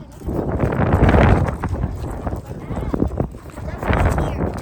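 Gusty wind buffets the microphone with low rumbling roar throughout, swelling and easing, while voices talk underneath, in dusty desert conditions near Seven Magic Mountains inside a 2023 Tesla Model Y.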